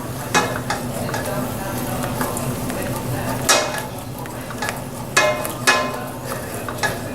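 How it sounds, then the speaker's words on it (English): A utensil stirs a thin blonde flour roux in a hot pan. There is steady sizzling, and sharp scrapes and clinks against the pan come at irregular intervals. "Add a little bit of flour, about a quarter of a cup, and make a thin roux"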